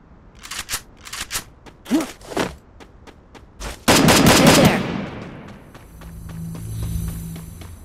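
Gunfire in a battle royale video game: short bursts of close, loud shots, then a dense rapid volley, followed by quieter clicks and a low hum.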